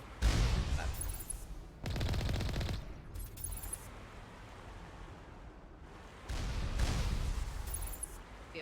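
Rapid automatic gunfire in the video game Mass Effect Legendary Edition, three sustained loud bursts of fire separated by quieter stretches of rumbling ambience.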